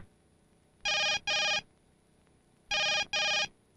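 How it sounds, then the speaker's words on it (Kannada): A phone rings in two pairs of short, bright electronic bursts with a gap between them, heard clearly over near-silent background. "ಬೆಳಗಿಂದ ರಿಂಗ್ ಆಗ್ತದೆ"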